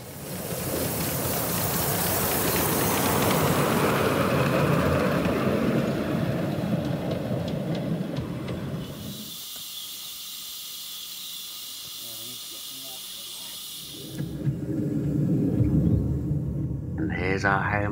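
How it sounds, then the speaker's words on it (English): A 7 1/4 inch narrow gauge steam locomotive roars past outdoors in Somerset with heavy hissing and rumbling, fades to a quieter hiss, then surges loudly again; a voice speaks along the way. "the steam engines storming by"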